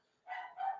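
A dog gives two quick barks, the second slightly stronger, faint and somewhat distant, against an otherwise quiet indoor background.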